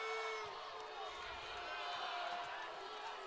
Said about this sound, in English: The crowd does not like it.